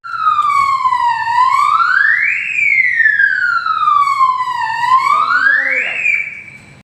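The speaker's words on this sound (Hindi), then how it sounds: "इस दौरान पुलिस ने बैंकों के सायरन बजाकर भी" A loud electronic bank alarm siren wails continuously, sweeping up and down in slow rising and falling cycles, close and steady throughout.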